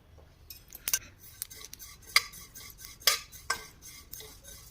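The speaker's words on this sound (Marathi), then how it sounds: "1 मिनिटभर तीळ भाजून घेतली" Sesame seeds dry-roast in a pan over low heat while a spoon stirs them, giving sharp metallic scrapes and taps at irregular intervals over a faint, quiet background.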